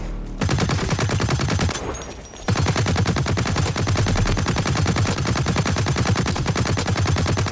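Rapid automatic gunfire from a first-person shooter game, Blacklight, hammers steadily for several seconds, breaks briefly, then resumes as a dense, loud stream of shots.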